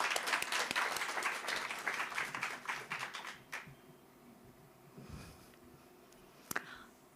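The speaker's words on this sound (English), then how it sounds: "Please give her a round of applause." An audience applauds at a speaking event, a dense burst of clapping that tapers off after a few seconds into quiet room tone with a few scattered claps.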